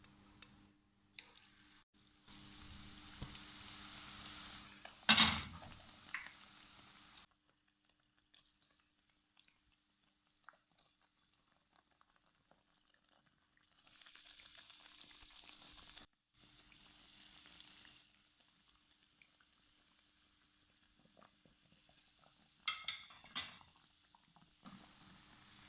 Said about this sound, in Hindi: तो चलिए इनको भी फ्राई कर लेते हैं।